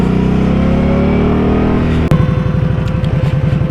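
An Indian Scout motorcycle engine drones steadily while riding, then a sharp jolt from a bump is followed by a choppier, pulsing engine rumble with wind noise throughout.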